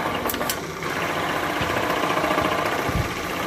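A friction test machine running with oil hums steadily at mid pitch with faint rattling, a few brief clicks and knocks near the start and end.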